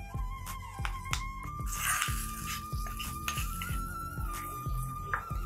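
Food being stirred in a cooking pan with the stove off, a utensil clinking and scraping against the metal in a quick, steady rhythm of sharp knocks, fairly close and with no talk.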